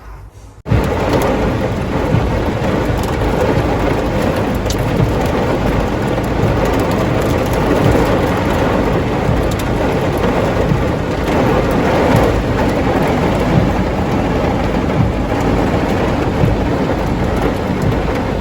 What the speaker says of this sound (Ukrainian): яка в нас була сильна, страшенна злива